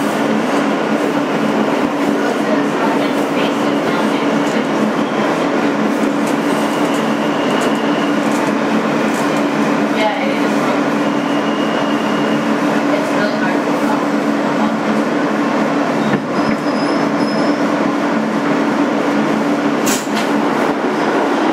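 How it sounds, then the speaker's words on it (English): A 2008 Kawasaki R160B N local subway train on the NYC BMT Sea Beach line runs steadily with a loud, continuous rumble and hum, wheel and track noise throughout, and a faint announcement voice in the background. "This is a Court Street bound N local train."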